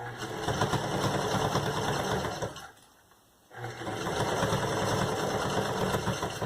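A sewing machine stitches in a zipper with a steady, whirring mechanical hum. It stops briefly midway, then starts up again and runs evenly to the end.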